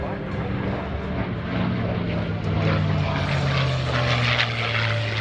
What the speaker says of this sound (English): get ready for one of the most beautiful fighting aircraft of all time. From World War II, the P-51D Mustang.